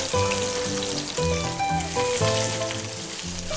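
Red rockfish (bulbollak) pan-frying in oil gives a steady, dense sizzle and crackle throughout, heard under background music.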